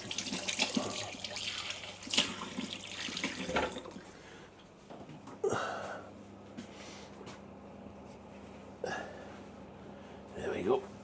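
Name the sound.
tap running while rinsing hands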